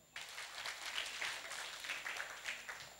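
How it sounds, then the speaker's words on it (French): Children at a televised kids' show applaud, a soft, fairly distant patter of many small hands that starts abruptly and continues steadily, with no talking over it. "on applaudit fort pour elle, les enfants"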